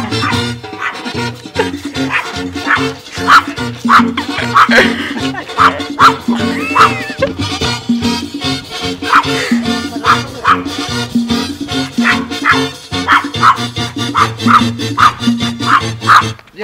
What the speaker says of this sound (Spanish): área de los perros.